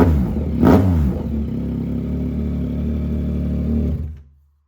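A 2024 Yamaha MT-09 motorcycle with an SC Project full exhaust, close and loud, blips sharply once then holds a deep, rumbling idle for several seconds before cutting off abruptly.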